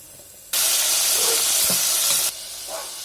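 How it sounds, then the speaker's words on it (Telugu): Tomatoes dropped into hot oil with browned onions, green chillies and curry leaves for tomato dal, giving a sudden loud, steady sizzle and hiss that lasts under two seconds, then eases off into a quieter crackle. "అవి కొంచెం ఎర్రగా అయిన తర్వాత టమాటాలు వేసుకోవాలి."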